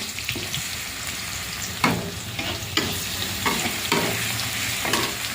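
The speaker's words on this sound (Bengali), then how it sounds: "এবার রসুনটা ভাজা ভাজা করে নেব ভালো করে।" Garlic fries in hot oil in a wok with dried red chillies and bay leaf, giving a steady close sizzle broken by a few sharp scraping stirs of a spatula, with no voices.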